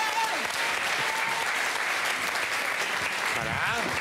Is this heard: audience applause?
yes